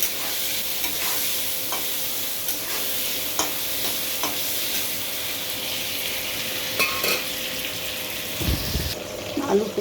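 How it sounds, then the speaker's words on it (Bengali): Potato pieces fry in a pan for a Bengali rui fish curry, giving off a steady, close sizzle with occasional stirring scrapes and a brief clatter near the end. "এখন আমি আলুটা ভেজে নেব"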